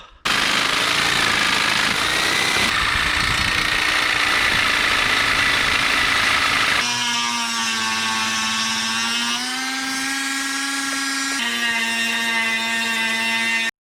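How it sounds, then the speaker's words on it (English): A jigsaw cutting swingarm cutouts roars loudly and steadily from start to finish, its whining tone shifting in pitch partway through as the cut continues. "I'm probably gonna try"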